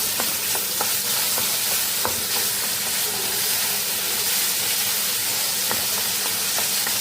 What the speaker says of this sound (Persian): یه قاشق رو دوباره تو روغن سرخ میکنیم